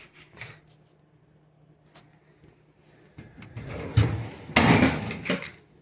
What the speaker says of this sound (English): Just like that, my new slides work just fine.